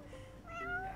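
A cat meows once in the video game Final Fantasy XV, a short, fairly soft rising-and-falling call heard alone over a low steady background.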